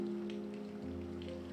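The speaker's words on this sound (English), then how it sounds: "How long has it been raining?" Rain patters softly and steadily in a quiet interior scene for a brief moment, beneath low sustained musical tones.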